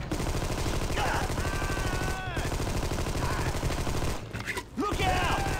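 Gunfire in the Xbox action game Armed and Dangerous, heard as a dense, continuous rattle of shots throughout, mixed with game music and sound effects and a few brief dips.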